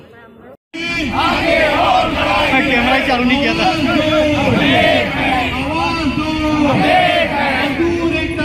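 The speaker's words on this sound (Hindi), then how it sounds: "बढ़िया भीड़ लग रहे हैं।" A large crowd of Bharatiya Mazdoor Sangh protesters gathered at the Durg collectorate chants and shouts loudly nearby in a dense roar, with voices talking over it.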